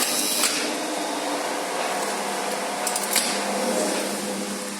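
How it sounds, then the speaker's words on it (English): A DC pulsed AC variable voltage lift motor drive, two-speed, in a tower block, running steadily as a loud continuous hum and whine throughout, with a few brief higher clicks. "Oh, that DC pulsed AC sounds really nice."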